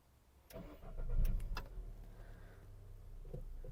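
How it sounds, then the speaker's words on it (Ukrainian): A Volkswagen Touran with 204,000 km on it, imported from Italy, starting up: a few ticks, then a short starter crank that catches at about a second and settles into a steady idle, heard fairly close and alone. "Давайте запустимо двигун."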